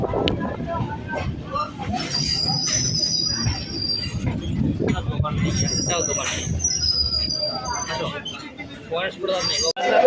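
Train pulling into Santipur Junction station, a continuous rumbling ride with wheel squeal and high metallic screeches, people talking over the noise throughout.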